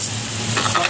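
Uncle Ben rice is stirred and tossed while it fries in a pan: a brief sizzle with a couple of scraping stir strokes, close and clear, with no talking.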